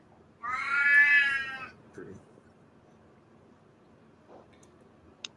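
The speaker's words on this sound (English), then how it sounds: "Oh, great. Cat." An angry cat lets out one loud, drawn-out yowling caterwaul, close and harsh, followed by a couple of softer, brief sounds and quiet background noise.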